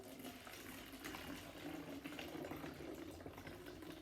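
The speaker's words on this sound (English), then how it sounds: "Now you're going to add the water into the" Water poured into a bottle during a classroom air experiment, a faint steady trickling and gurgling that lasts the whole moment without talk.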